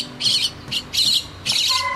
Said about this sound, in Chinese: 这只小鸟刚学飞呀